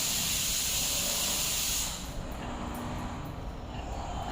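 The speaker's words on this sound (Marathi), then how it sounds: "कुकरच्या शिट्ट्या फटाफट पटापट होत आहेत" A kitchen pressure cooker whistles, releasing a loud continuous hiss of steam for about two seconds that then drops to a quieter, lingering rush.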